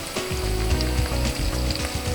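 Onions and mushrooms frying in a pan for a Philly cheesesteak, giving a steady, close sizzle with light crackling throughout.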